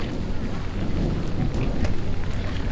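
A thunderstorm in the Swiss Alps near Grindelwald brings a steady roar of rain and wind with low rumbling, loud and continuous.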